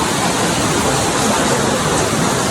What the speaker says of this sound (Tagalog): Ayan na yung Miamit Falls.